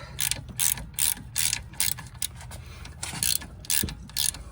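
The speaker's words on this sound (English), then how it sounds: "Now let's remove these bolts here." Ratchet wrench clicking in quick bursts while strut bolts are loosened on a 2007–2011 Toyota Camry, close and fairly quiet, with short pauses between the runs of clicks.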